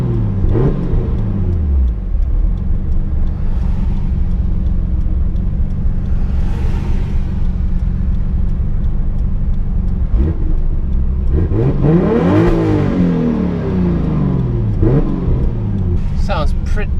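An RB26/30-swapped Nissan S14 pulls hard at night, its engine climbing and dropping through repeated loud rising revs and gear changes, heard close from inside the car with a steady road rumble beneath.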